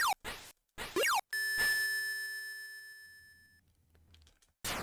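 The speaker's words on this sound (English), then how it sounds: "all you hear is like, bam, like a beeping, sort of rhythmic beeping sound" Rhythmic electronic beeping from a submarine scene in an SG-1000 video game: a steady pulsing tone repeats evenly for a few seconds and fades, framed by short bursts of game sound effects.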